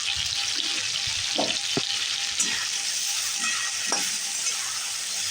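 Onion paste frying in hot oil with potatoes sizzles steadily and loudly up close, broken by a few sharp scraping stirs of a spatula, with no one speaking.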